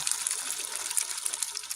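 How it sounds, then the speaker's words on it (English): A cup of water pours into a pot of homemade chili with tomato paste, a close, bright gushing splash that runs steadily for under two seconds with small bubbling bursts and no voices. "We're going to add a cup of water"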